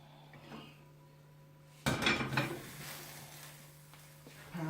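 A non-stick pan being cleaned in a home kitchen while making an egg-wrap breakfast: a quiet hum, then a sudden scraping clatter of utensil against pan that fades into light rubbing, with another knock at the end.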